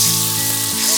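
Spices such as turmeric and cumin powder sizzling in hot oil for a Bengali pangas fish curry, a dense steady hiss with no talk over it.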